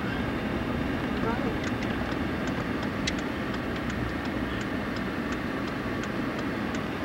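A train rumbles past in a steady, dense roar, with faint rhythmic clicks of wheels over rail joints throughout.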